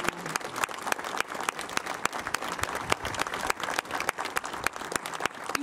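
Sustained applause from an audience at an outdoor anniversary ceremony by the Gdańsk Shipyard, many hands clapping densely and evenly, loud and continuous throughout.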